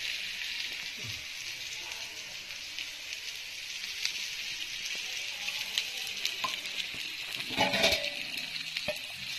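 A soft, steady sizzle of spinach thalipeeth flatbread cooking in oil on a hot griddle, fairly quiet and continuous, with a few light taps and no voices.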